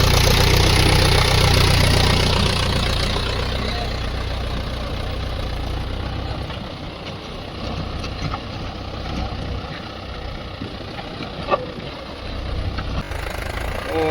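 A heavy diesel Mahindra Yuvo 575 tractor engine rumbles loudly and continuously close by, with a rough knocking chug as it labours ploughing a deep furrow.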